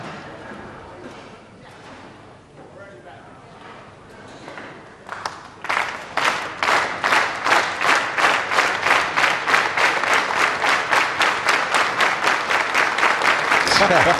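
Crowd at the Metrodome during a Weber Cup bowling event breaks into rhythmic clapping that swells and grows loud, with a commentator talking over the first part.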